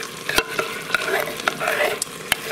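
Crushed tomatoes with Italian herbs sizzling in a pressure cooker and stirred with quick scraping strokes against the pot, close and loud, with a bright hiss and no talking.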